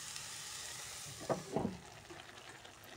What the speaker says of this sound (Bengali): এখানে আছে ফুলকপি, গাজর, আলু আর পেঁয়াজের কালি দিয়ে ভাজি করা হচ্ছে